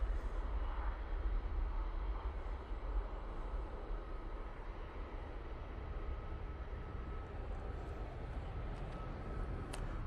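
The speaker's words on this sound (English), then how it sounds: "That Ryanair is off to Berlin." A Ryanair airliner takes off from Manchester Airport, heard as a steady, distant jet roar with a deep rumble that holds evenly for ten seconds, without any voices.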